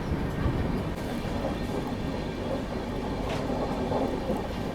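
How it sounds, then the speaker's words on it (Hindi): A diesel locomotive hauling the Palace Queen Humsafar Express accelerates with a broad, steady rumble and rushing roar, heard continuously from nearby. "अब देखो एक्सेलरेशन करेगा अपना डीजल लोकोमोटिव"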